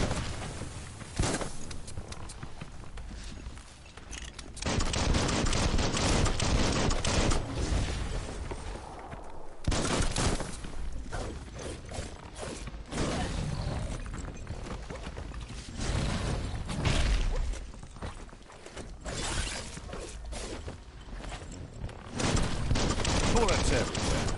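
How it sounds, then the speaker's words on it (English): Gunfire in the video game Biomutant on PS4, repeated bursts of shots and impacts rattling in uneven waves at moderate loudness, with short quieter gaps between volleys. "Bullets everywhere."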